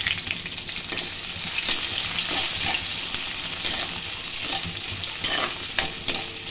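Onions sizzle in a pan for a village-style potato curry, giving a continuous crackling fry with scattered spatula scrapes and stirring clicks, close and alone without speech.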